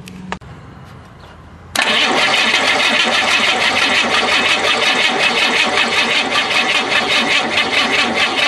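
A propane-fueled Ford Fairmont engine cranks and catches after a short quiet stretch and a faint click, then runs loud and steady with a busy, rattling rhythm, no one talking.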